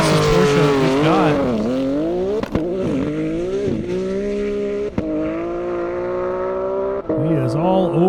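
Porsche Turbo racing down an airstrip at a top-speed event, its engine a loud, sustained high-revving roar with rising and falling pitch and brief dips at gear shifts, close and continuous throughout.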